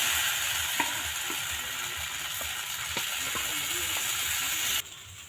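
Dosa batter sizzles on a hot clay pan as it is spread in circles with a ladle, a steady close frying hiss with faint scraping clicks, stopping abruptly near the end.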